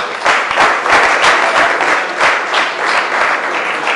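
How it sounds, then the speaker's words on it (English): An indoor audience at a civic cultural ceremony gives a loud, sustained round of applause for women nominees in a top 40, the dense clapping holding steady for several seconds. "we want to definitely give them a round of applause"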